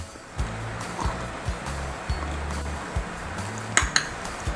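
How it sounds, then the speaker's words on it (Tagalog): Garlic pounded in a mortar while making Filipino ginataang manok, a steady series of about a dozen dull thuds with light clinks, close by and moderately quiet. "Ngayon, magdidikdik lang po tayo ng garlic."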